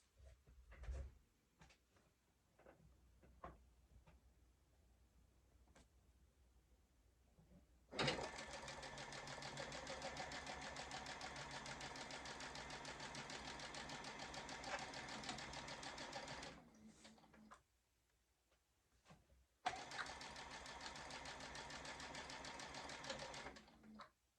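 A sewing machine stitches a quarter-inch seam around a quilt block, running loudly in two long continuous bursts with a short pause between, after some quiet handling clicks and fabric movement.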